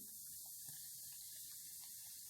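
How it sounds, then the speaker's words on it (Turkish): Baking soda fizzes in a bowl after lemon juice is poured on it, making a faint, steady hiss that runs without a break through the whole moment. "Karbonatla limon bir araya gelince hemen köpürdü."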